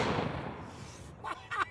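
One heavy, booming blast from a 2 bore blunderbuss decays into a rumbling tail, followed by brief voices reacting.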